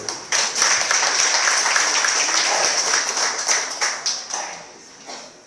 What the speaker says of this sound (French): Bien, merci Henri, d'un petit applaudissement quand même.